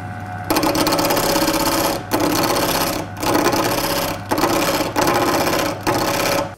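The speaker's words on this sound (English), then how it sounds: "I have not used a wood lathe in so long." A wood lathe turns a war hammer handle, a loud steady whirring with a rough cutting rasp that breaks off into short pauses every second or so as the tool is backed away and brought in again.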